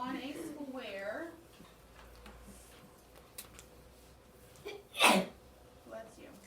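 A single sharp sneeze bursts out in a classroom during a math lesson, loud and sudden after a stretch of quiet, with faint background talk before it.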